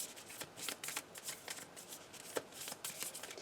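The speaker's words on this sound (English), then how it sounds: "So yeah, we shuffle this in." Weiss Schwarz trading cards being shuffled in quick, papery riffles, a steady run of soft flicks and snaps close by with no talking.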